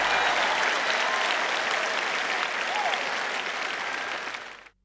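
An audience applauds at a sermon, a dense sustained patter of many hands clapping at moderate volume that fades out and stops at the end.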